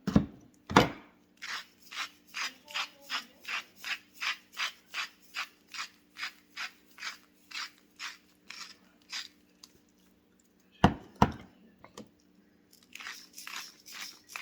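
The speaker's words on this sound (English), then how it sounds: "These are our salt and pepper grinders." Salt and pepper grinders crank over roasted vegetables in a quick run of rhythmic crunching turns. After a short pause come a few more grinds, close and fairly quiet, with no talking.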